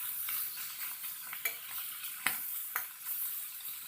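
Small fish frying in a pan for a Assamese home dish, a steady close sizzle and crackle with a few sharp pops and brief utensil stirring scrapes, no voices.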